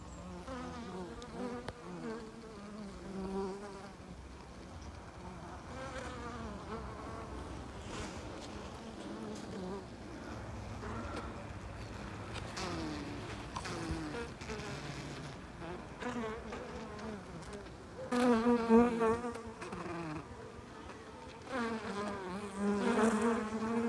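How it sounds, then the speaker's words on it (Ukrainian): Many wild bees buzz continuously around the listener at a wild hive in a log, overlapping drones rising and fading as individuals pass close, louder bursts near the end. "Тут ще й багато бджіл."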